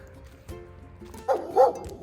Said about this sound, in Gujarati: આ ડોગ,